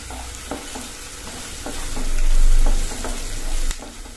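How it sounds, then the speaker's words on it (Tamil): Onion, curry leaves and green chillies sauté in a pan, a close, loud sizzle with rhythmic stirring scrapes and a swelling hiss midway, no voices. "அடுத்தது ஒரு கொத்து கருவேப்பிலையும் ரெண்டு பச்சை மிளகாவும் சேர்த்து நல்லா வதக்கிக்கணும்."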